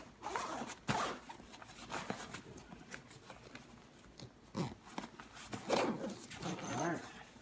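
A backpack packed for a backpacking trip being zipped closed, with several short zipper rasps and rustling of gear at close range, under a person talking.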